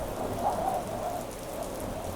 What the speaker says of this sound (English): would you like to come in before this rain soaks through to your very bones?